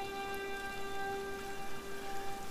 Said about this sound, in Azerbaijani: Yağış yağır hər yana.